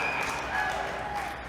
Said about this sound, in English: I love that kind of applause like that.